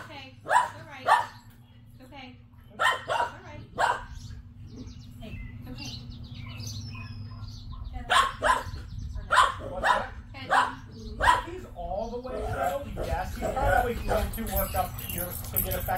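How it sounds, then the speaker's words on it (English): A Sheltie gives short, sharp barks in scattered bursts close by, with people talking, keys jangling and birds chirping in the background. "I'll just ask Tags to bark and then have him work on settling"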